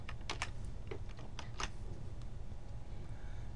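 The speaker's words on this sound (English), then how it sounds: "in parentheses, I'm going to type" Quiet computer keyboard typing: a handful of light key clicks clustered early, then fading into a low steady background hum.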